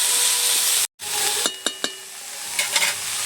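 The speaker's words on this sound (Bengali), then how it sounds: "সবটাই দিয়ে দিলাম, বেশ ভালোভাবে এবারে মিশিয়ে নিচ্ছি মশলার সাথে।" Cabbage and spices stir-fry in a pan, giving a bright continuous sizzle broken by a few sharp scraping clicks of the spoon against the pan, close and clear.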